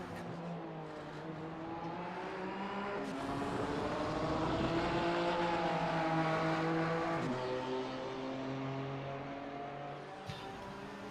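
Race cars lapping Road America in iRacing endurance event, including a BMW, with steady droning engine tones rising and falling through gear changes, one car close and loud, no talk.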